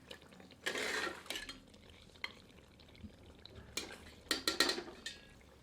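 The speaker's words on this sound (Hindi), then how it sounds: "3 से 4 मिनट मध्यम आंच पर और भून लेते हैं।" Mutton korma fries in a pot over medium heat. A spoon stirs and clanks against the metal in two quiet clusters of scraping and clinking, with a faint frying hiss between them.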